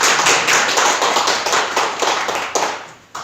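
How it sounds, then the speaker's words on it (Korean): A church congregation claps together during a Sunday morning worship service, a dense steady patter of many hands that runs loud for about three seconds before cutting off abruptly. "서로 위로하고 감사하면서 박수로 서로 만나겠습니다."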